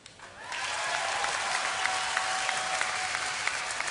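Audience applause at BlizzCon during a Diablo 3 Q&A session, a dense wash of clapping that swells in after a brief quiet start and then holds steady and loud to the end, with scattered sharper claps standing out.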